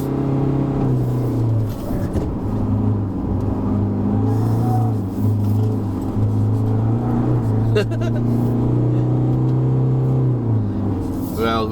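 A 2021 Isuzu D-Max X-Terrain pickup climbing a hill road, braking and shifting down to second, with a steady loud engine drone that rises and falls in pitch as it pulls, heard from inside the cab.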